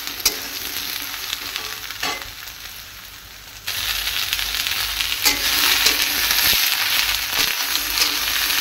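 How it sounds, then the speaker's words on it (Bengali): Soybean chunks fry in hot oil with a continuous sizzle that swells louder partway through, with occasional scrapes of stirring and no talk. "সোয়াবিনটা আমি আগে ভালো করে ভেজে নিই"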